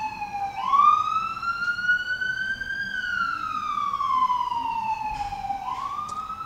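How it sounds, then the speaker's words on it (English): A fire engine siren wails past, its tone rising and falling in long, smooth sweeps. It is loud and close and plays alone with no talking. "And there's firefighters coming, if you guys can hear it."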